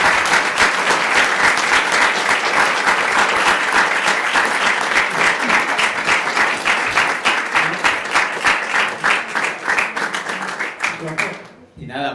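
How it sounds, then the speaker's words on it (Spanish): A roomful of people at a cultural event on music and video games applauds in a long, loud, sustained round, with the clapping loosening into more distinct claps and fading near the end. "Un aplauso para el maestro."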